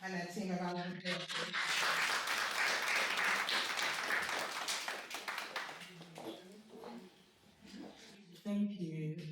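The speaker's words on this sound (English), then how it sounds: "let's give her and her team a round of applause" An audience at a talk event claps for the next speaker, broad applause swelling loudly and then fading, with a voice speaking over the start and end.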